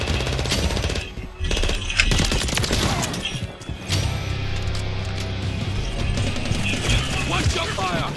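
Rapid automatic gunfire from a shooter video game, dense bursts of shots running almost the whole time with a brief lull, loud and close, with voices talking over it.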